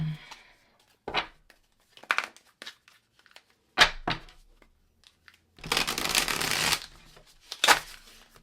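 A deck of tarot cards is shuffled close to the microphone in several short, crisp bursts of riffling and flapping, with one longer shuffle near the end and quiet gaps in between.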